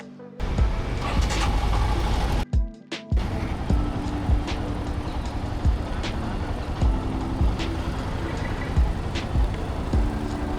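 A Royal Enfield Himalayan 411 motorcycle pulls away from a service centre in Goregaon with a low, steady engine rumble that drops out briefly before settling into a continuous drone.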